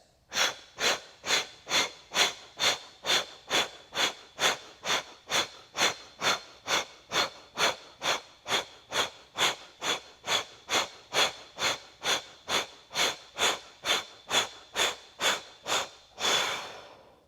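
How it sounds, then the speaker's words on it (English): Short, forceful exhales through pursed lips in a breathing exercise, about thirty-five sharp, evenly spaced puffs in a steady rhythm, close and fairly quiet, ending with a longer breath. "we're going to begin those short, forceful exhales through the pursed lips"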